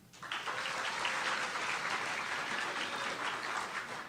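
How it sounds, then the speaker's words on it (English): A comedy-show crowd at a comic convention breaks into sustained, dense applause in a vote for Lovecraft, steady and full from start to finish. "by applause for Lovecraft"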